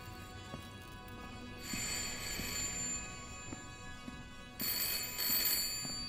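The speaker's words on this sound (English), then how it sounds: "there's a phone ringing." A telephone rings in two bright, trilling bursts in the Layers of Fear horror game, heard over a low, steady ambient drone with no talk.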